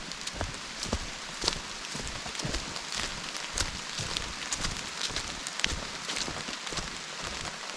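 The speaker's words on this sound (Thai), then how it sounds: "ยังไม่ได้ไปไหนเลยครับฝนตกแล้วครับ" Steady rain falls at a campsite during a heavy storm, a dense, continuous patter with sharper drops striking nearby surfaces, loud and close with no voices.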